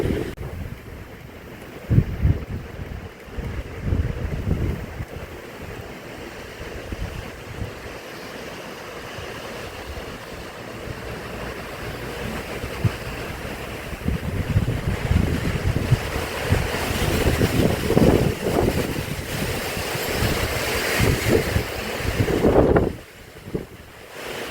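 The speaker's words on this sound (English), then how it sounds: "I'm getting some wind." Strong Chinook wind roaring in remote Alaska, a steady, loud rush buffeting the microphone, swelling in gusts toward the end before easing off.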